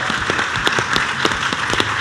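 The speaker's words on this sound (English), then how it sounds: "another round of applause for all the three guests" Applause from a live audience greeting three guests at a contemporary reggae, dancehall and afrobeats event, dense steady clapping with a few sharper individual claps standing out, moderately loud and continuous.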